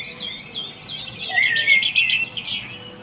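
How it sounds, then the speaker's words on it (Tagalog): Outdoor birds chirping in a lively, busy chorus of rapid high tweets and calls, fairly close and continuous, with no talking. "Ang ingay-ingay ng mga ibon."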